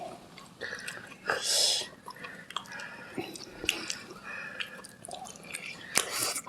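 Close, wet chewing of a homemade rolled pork cutlet, with smacking and squishy bites coming in uneven bursts and a brief soft murmur in between.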